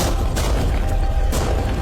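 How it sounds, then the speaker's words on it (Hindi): Tank cannons fire in rapid succession, loud booming blasts stacked over a continuous heavy low rumble, with several sharper reports standing out. "टैंक्स की रैपिड फायर से मजा आ रहा है।"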